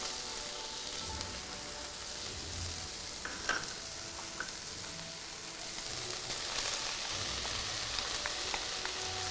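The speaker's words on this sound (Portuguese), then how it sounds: "Vamos dar mais uma mexidinha aqui para poder cozinhar bem" Carrot, cabbage and shiitake stir-fried for yakibifum rice noodles, a continuous sizzle under scraping stirs with a few sharp clicks of a utensil against the pan, close and steady.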